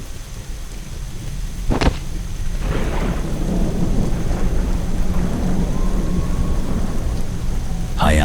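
Heavy rain pours steadily with thunder, a sharp crack near the start followed by low rolling rumbles, the downpour dense and continuous throughout.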